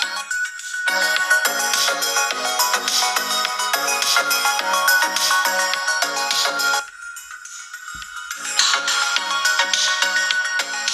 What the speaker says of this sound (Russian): Так играет верхний динамик.